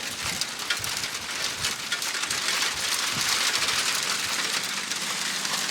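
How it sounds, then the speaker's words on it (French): Dense, steady pelting of hail hammering a surface, a continuous loud hiss with gusty wind roaring underneath. "En fait c'est pas de la pluie, là c'est de la grêle."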